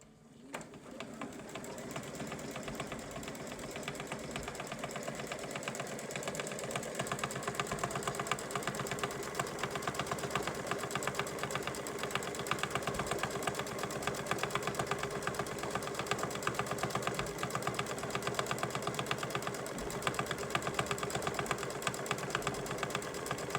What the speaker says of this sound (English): I'm gonna start my start button, and we're gonna stitch out the first design.